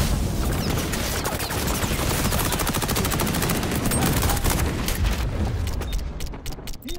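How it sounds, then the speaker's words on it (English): Dense sustained automatic gunfire with incinerator rounds in XDefiant, rapid loud bursts of shots and booms rattling nonstop, easing off near the end. "My incinerator rounds ain't doing shit, bro."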